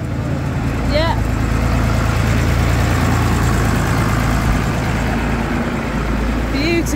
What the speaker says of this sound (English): That tractor.